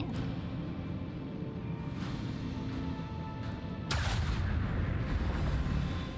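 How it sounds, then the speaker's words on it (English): A ship's main cannon fires in the Warhammer 40K Rogue Trader video game, a sharp heavy blast near the four-second mark breaking through a dense, rumbling background of game noise, with a few fainter impacts before it. "I think we can hit him with our main cannon,"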